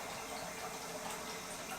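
Water rushes steadily from the supply lines of a Delta bathroom faucet as they are flushed, a constant broadband hiss with no voices and no pauses.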